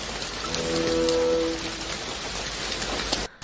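Heavy rain pours steadily outdoors in a dense, close hiss that continues throughout, with a faint tonal sound briefly under it and an abrupt drop at the end.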